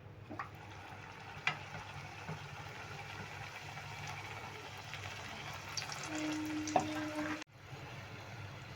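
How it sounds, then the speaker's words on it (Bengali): Vegetable-stuffed rolls frying in a pan of oil give a steady low sizzle throughout, with a few small clinks and scrapes on top and a brief dropout near the end; no one speaks. "এবার লাস্ট দুটো আমি ভেজে নিচ্ছি"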